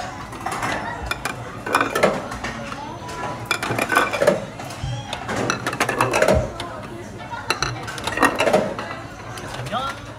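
Empty sushi plates dropped one after another into the table return slot at a Kura Sushi conveyor-belt restaurant in Japan: repeated hard clacks and rattles of ceramic sliding down, with people talking over the clatter.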